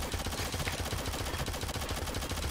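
Rapid automatic gunfire from the Shadowgun Legends multiplayer shooter game, a continuous dense burst of shots filling the short stretch with no talking.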